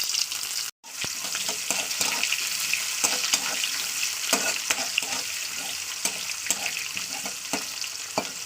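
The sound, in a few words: onions frying in oil with cumin and dried chili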